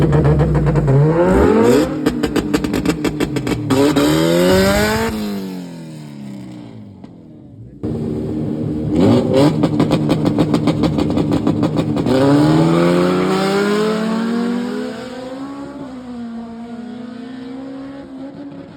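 Drag racing cars at an NDRC event, including an AWD Honda Civic, roar past loudly and close, with two launches of rising revs, rapid gear-change cuts and crackling bursts, separated by a short lull.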